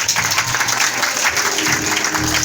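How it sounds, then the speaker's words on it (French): Sustained applause from a church congregation acclaiming Jesus, dense and continuous clapping with faint crowd voices mixed in throughout. "On acclame le Seigneur Jésus."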